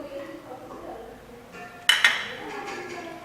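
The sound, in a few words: mixing facial pack ingredients in a bowl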